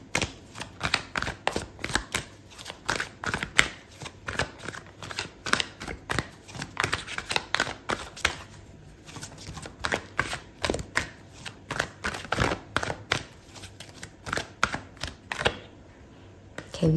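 Tarot cards are shuffled and dealt out, a close, quiet series of crisp riffling snaps and slaps in irregular bursts with short pauses, going on for about seventeen seconds without speech.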